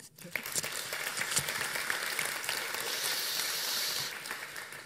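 Audience applause at an agile conference keynote in Grenoble, a dense, steady wash of clapping from a large crowd that holds at an even level for several seconds before tapering slightly.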